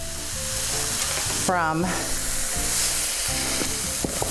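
Onions and peppers sizzle steadily in a pan, a continuous frying hiss with a brief voice passing over it near the middle.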